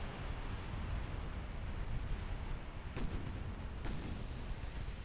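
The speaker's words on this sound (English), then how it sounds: "Another torpedo detonation." Torpedo detonations in the naval battle game Ultimate Admiral Dreadnoughts, a low rumbling battle bed with two distant muffled blasts standing out faintly, no talking.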